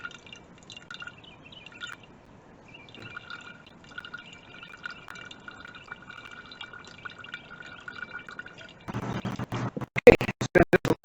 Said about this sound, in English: a saline solution, rather dirty saline solution, going into this jar here. I'll pour slow